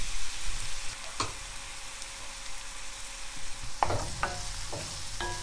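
Garlic frying in a pan of vegetables alongside carrot and onion, giving a steady, moderate sizzle with several sharp stirring scrapes and clinks toward the end.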